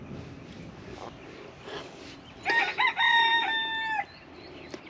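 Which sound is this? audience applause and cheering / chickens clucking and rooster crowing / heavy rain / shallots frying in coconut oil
chickens clucking and rooster crowing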